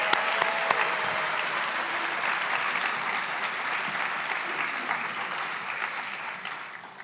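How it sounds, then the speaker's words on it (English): An audience gives a long, big round of applause for Grad Slam finalists at a university showcase, sustained dense clapping with a few sharp claps early on, slowly fading toward the end. "Let's give them a big round of applause."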